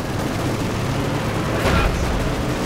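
Dense rolling gunfire and explosions from a World War II strategy game, with Panzer IV tanks, Panzerschrecks and Panzer Grenadiers in the fight, form a steady loud roar with a sharper burst near the end.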